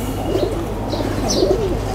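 Domestic pigeons coo softly and close by at a home loft of pedigree pigeons, two low rolling coos over a quiet background.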